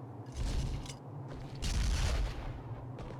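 Gun firing with recoil in Monster Hunter Freedom Unite, a few heavy booming shots in bursts with deep low thumps and a mechanical clatter, loud and close.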